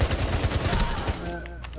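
Rainbow Six Siege gunfire: a rapid automatic burst of loud, close shots filling most of the brief moment, then trailing off into ringing tones.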